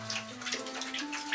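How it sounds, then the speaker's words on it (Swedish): Bathwater trickling and splashing softly as conditioner is rinsed out of hair in a bathtub, a steady faint wash of running water with light splashes. "För jag måste skölja av mitt balsam först."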